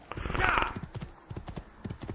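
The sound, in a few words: horse galloping in video game Assassin's Creed II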